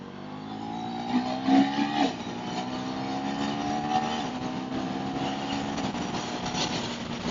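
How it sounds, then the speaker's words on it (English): A 2024 KTM Duke 390 motorcycle engine revs and climbs steadily in pitch as it accelerates to highway speed, a continuous close whine with wind rush over several seconds. "Let's see how this accelerates up to highway speeds."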